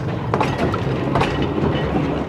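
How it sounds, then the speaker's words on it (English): An electric tram rolls along rails through a bushland park, a continuous rumbling ride with faint clicks from the wheels passing rail joints, heard close and steady without voices. "the return of trams"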